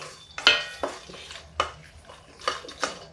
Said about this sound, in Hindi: तो अब हम डालते हैं फिर से 1 चम्मच घी, बस थोड़ा ही डालेंगे, और ये सारे मेवे डाल देंगे। धीमे धीमे इसको भून लेंगे।